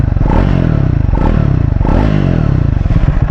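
A Triumph Speed 400 motorcycle engine runs loud and close at a steady, throbbing idle, its firing pulses rising and falling slightly without a break.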